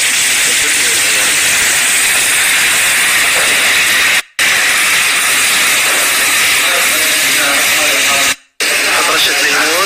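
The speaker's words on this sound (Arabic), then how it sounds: "هنا حطيت زبدة وثوم وشوية زيت. بحط البصل والفلفل والبيان." Onion and pepper sizzle loudly in butter, garlic and oil, a dense continuous hiss that fills the clip, broken by two brief silent gaps.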